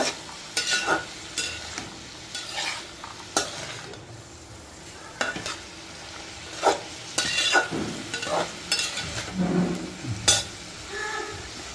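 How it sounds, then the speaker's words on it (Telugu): Brinjal and chickpea curry stirred gently in a pan, a continuous sizzle with frequent scraping and light clinks of a spoon against the pan at an irregular pace, close by, without any talking. "ఇవన్నీ మెల్లిగా కలుపుకోవాలండి"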